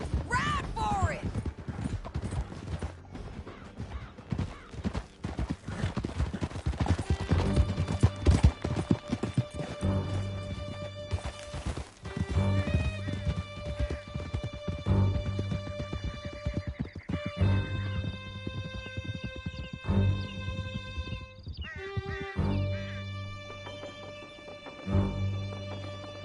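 Horses gallop in Red Dead Redemption 2 with steady clip-clop hoofbeats and occasional neighs, set under a musical score and shouted dialogue during a canyon chase.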